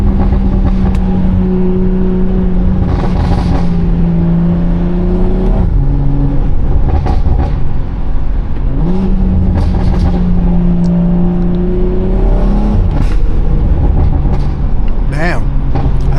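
A BMW 340i with a loud aftermarket exhaust revs repeatedly while driving, rising and falling engine drones heard from inside the car, with someone talking over it.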